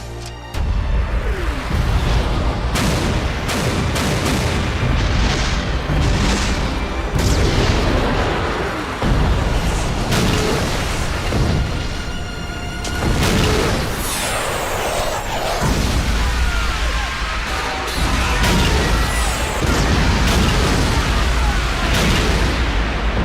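Airstrike explosions from the animated film Ghost in the Shell Arise, a dense, continuous barrage of loud booms and blasts with rumbling low end and crackling bursts filling the whole stretch.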